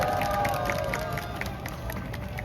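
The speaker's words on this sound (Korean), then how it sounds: "다시 한번 박수 부탁드리겠습니다" Crowd at a protest rally in Ulsan clapping and cheering, a dense, steady wash of applause with scattered shouts and whistles filling the whole stretch.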